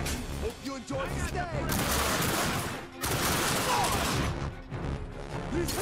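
Dense first-person shooter gunfire from The Darkness 2 rattles in rapid volleys, loud and close, with a brief break near the middle before the firing resumes over game effects.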